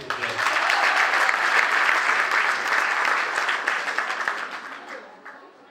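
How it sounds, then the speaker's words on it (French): Students in a lecture hall at a campus back-to-school assembly break into loud, sustained applause that gradually thins and fades out over several seconds. "Applaudissez s'il vous plaît."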